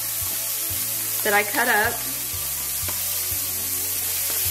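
Sliced onions and baby bella mushrooms sizzle steadily in a hot pan, a constant frying hiss with occasional stirring scrapes, while a person briefly speaks over it.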